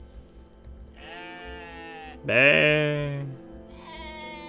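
Rams bleating in the video game OneShot: three loud, drawn-out wavering bleats, the middle one strongest, with a brief spoken word alongside.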